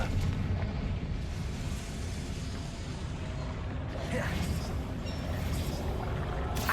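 Fiery Confringo spell cast in a Hogwarts video game, a loud rumbling blast with a roaring, crackling tail that swells again near the end, under a dense game soundscape with some voice.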